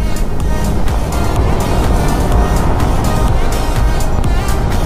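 A 115cc motorcycle engine while riding on a long road trip toward Pangasinan, a loud steady drone mixed with heavy wind rush at speed, continuous and close throughout.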